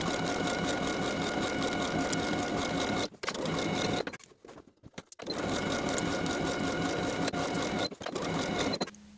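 A sewing machine stitches jumpsuit ties in fast, steady whirring bursts, close and clear, stopping briefly around the three- and four-second marks for a pivot at a corner before running again.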